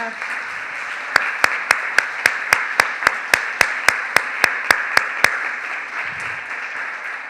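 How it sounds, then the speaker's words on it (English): An audience claps for the organizing team at the closing of a foresters' meeting, a steady crowd applause punctuated by a run of loud, evenly spaced sharp claps close by before it fades. "I want a clap again for them"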